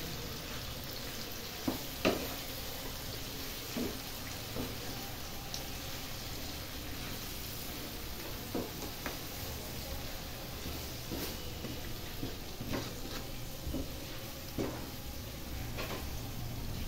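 Low sizzling of frying in a pan as panch phoron spice powder is added and stirred, with a few scattered clinks and scrapes of the utensil against the pan; no talking.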